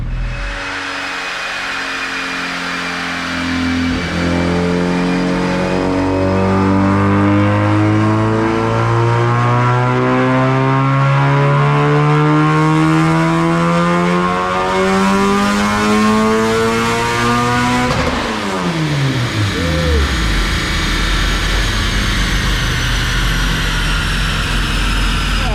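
A turbocharged Honda D16 in an EF hatch screams through a long 4th gear dyno pull on 93 octane, its pitch climbing steadily for about eighteen seconds before the throttle closes and the engine falls away abruptly.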